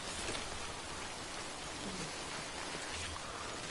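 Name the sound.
rain in the video game Death Stranding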